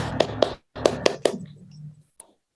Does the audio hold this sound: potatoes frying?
no